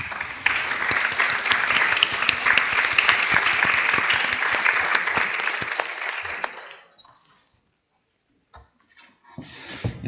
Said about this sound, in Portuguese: O vosso aplauso para o madeirense Carlos Nogueira Fino.